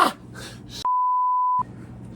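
A single clean electronic beep holds one steady pitch for under a second, set between breathy, strained vocal sounds.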